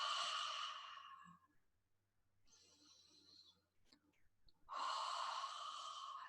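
Slow, exaggerated breaths during a guided relaxation: two long, breathy exhales poured out near the microphone, separated by a quieter inhale, with no speech.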